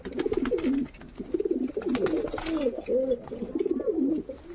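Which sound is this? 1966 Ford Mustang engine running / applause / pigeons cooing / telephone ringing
pigeons cooing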